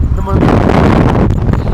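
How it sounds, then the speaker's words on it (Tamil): Strong wind roars across the microphone during a boat ride on the river toward Hogenakkal, a steady loud rushing buffet throughout with a voice faintly under it. "காற்று வர பலமாக இருக்குது"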